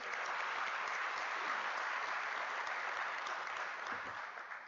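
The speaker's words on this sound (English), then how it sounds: "Let us give them a round of applause." Sustained, dense applause from a large graduation ceremony audience at the University of South Africa, steady and full for nearly five seconds before easing slightly at the end.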